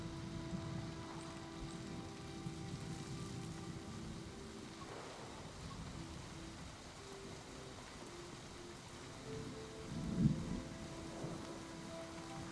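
Soft rain with a faint rumble of thunder in the video game Season, a quiet steady backdrop with a low thunder swell near the end.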